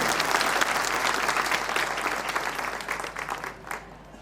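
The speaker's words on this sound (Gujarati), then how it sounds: "જોરદાર તાળી લગાવો" An audience at a community honouring programme claps steadily and loudly, with the applause slowly thinning toward the end.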